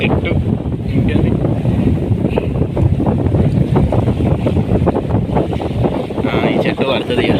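Strong wind blows outdoors during overnight flooding, as loud, continuous gusts that buffet the microphone with a heavy, rumbling roar from start to finish.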